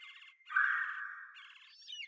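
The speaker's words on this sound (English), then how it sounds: "That sound is typical for the red-bellied woodpecker and I need the one behind it." A red-bellied woodpecker calls in a bird photography simulator game: a short rolling call, then a longer sustained churring note and a brief trailing phrase, clear and alone against silence.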